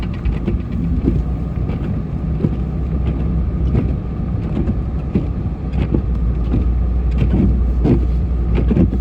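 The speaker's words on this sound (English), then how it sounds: "I see a truck overtaking another truck. He's passing right now." Heavy road rumble from trucks on a snowy road during a lake effect snow storm, one overtaking another, a steady loud drone with periodic thumps and rattles throughout.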